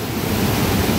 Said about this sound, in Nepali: निकै ठुलो पानी आएको छ।